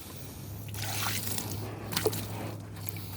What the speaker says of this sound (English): I'm going to take the water and pour it on here to kind of clean this